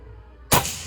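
A single sharp shot from a Predator 500cc air rifle with a folding stock, a sudden loud crack followed by a short fading tail, alone with no talk.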